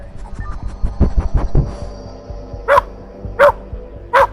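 Three loud, sharp dog barks ring out near the end, spaced about a second apart, after a stretch of low rumbling and thumping.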